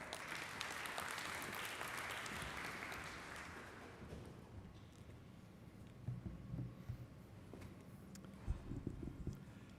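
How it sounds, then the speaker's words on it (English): An audience at an engineering symposium applauds to welcome a professor, a broad burst of clapping that fades after about four seconds into a quiet room with scattered knocks and shuffling. "A big round of applause for Professor Roth"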